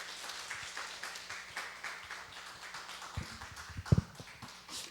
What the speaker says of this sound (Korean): 우리 목사님을 통해서 일하실 성령님을 환영하면서 우리 박수로 맞이하겠습니다